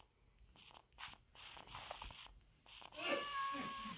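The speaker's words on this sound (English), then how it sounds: "Maybe it's that cat." A cat in Minecraft gives a few short meows among soft shuffling footsteps, with one clearer, tonal meow near the end, faint and somewhat distant.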